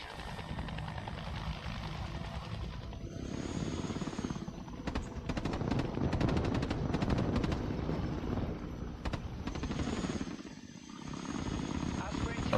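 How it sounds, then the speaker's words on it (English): Tiltrotor aircraft in the video game Broken Arrow approaching a drop zone, a steady droning rotor and engine roar that persists throughout, with scattered gunfire bursts and voices over it. "Tiltrotor aircraft here. Approaching the drop zone."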